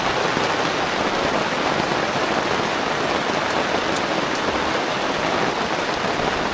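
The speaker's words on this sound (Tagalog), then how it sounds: "Lakas ng ulan, oh." Heavy rain pouring down at a rural tree house build site, a dense, constant loud hiss of drops drumming on surfaces with no letup.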